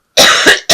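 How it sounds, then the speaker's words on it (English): One person lets out a quick series of harsh coughs, a long rasping first cough followed by two shorter bursts, close and loud with no talking. "I'm so sorry about this cough"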